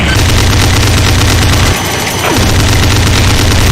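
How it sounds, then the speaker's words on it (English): A Revenant variant in a Doom mod unleashing a heavy railgun barrage: a dense, loud, continuous roar of rapid shots that breaks off briefly midway, then resumes as steadily as before. "It can also fire a barrage of heavy railgun shots"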